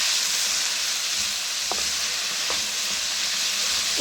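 Chopped greens and potatoes fry in a pan with a steady, even sizzle that runs throughout, broken only by a couple of faint clinks from stirring.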